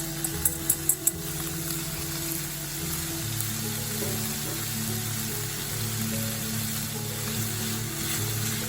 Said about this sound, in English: We're going to fry these until the onions have gone a little bit clearer and the bacon is a little bit crispy.